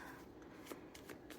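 Playing cards being shuffled in a quiet room, a soft continuous riffle with several sharper snapping bursts, close and fairly faint, with no talking.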